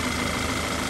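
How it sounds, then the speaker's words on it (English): A freshly rebuilt Audi 2.0T engine with a vacuum leak idles steadily, vibrating slightly, giving a continuous, even mechanical hum and rumble close by for about a second. "And then so the engine's vibrating just a little bit, right?"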